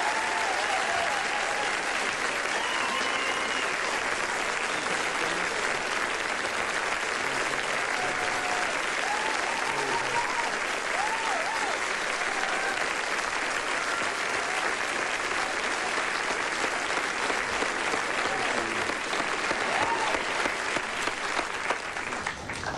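Standing ovation for LeAnn Rimes and Eddy Arnold, a dense, sustained wall of audience applause that carries evenly from start to finish, with faint whistles and shouts from the crowd but no distinct speech.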